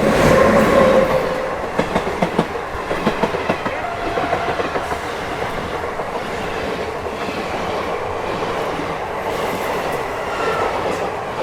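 A train rumbles past close by at the Visakhapatnam outer, with loud clickety-clack wheel beats early on that settle into a steady rolling roar and faint squeals throughout.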